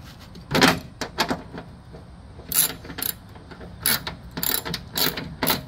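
A ratchet works spindle bolts loose on a mower deck, its sharp clicking coming in short bursts separated by pauses, close and fairly loud with no talk.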